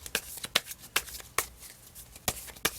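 Tarot cards are shuffled by hand in quick, irregular riffles and slaps, close and fairly quiet, with no talk.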